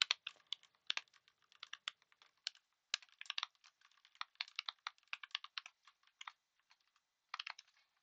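Light typing on a computer keyboard, quick scattered key clicks in short bursts with small gaps, soft and close in a quiet room.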